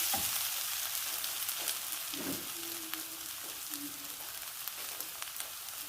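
Ginger, garlic and chicken frying in a pan for Shanghai Szechuan chicken, a steady broadband sizzle with a few brief stirring clinks, close and continuous without talk.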